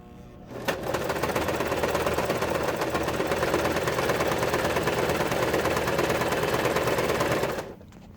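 Janome New Home 41012 portable sewing machine sewing through thick layers of material, one steady, loud, rapid run for about seven seconds that starts and stops abruptly, with no talk.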